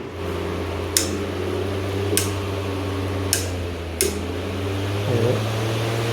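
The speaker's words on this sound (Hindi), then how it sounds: "पंखे शोर आ रहा है थोड़ा थोड़ा" A ceiling fan running in a house, a steady low hum with a constant drone, punctuated by four sharp clicking taps spaced about a second apart and a faint creak near the end.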